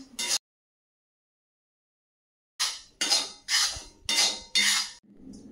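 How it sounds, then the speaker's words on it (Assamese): Flour being stirred and scraped in a kadai (wok) for halwa, a run of five rhythmic scraping strokes with metal-on-metal clinks, close and fairly quiet, after a single earlier stroke and a pause. "আটাখিনি ঢালি দিছোঁ কেৰাহীটোত, আৰু এইখিনি ভালকৈ লৰাই থাকিম।"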